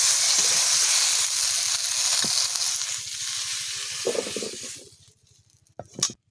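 Neem leaves fry in hot oil with a loud, hissing sizzle that fades toward the end, followed by a few sharp stirring clatters close by.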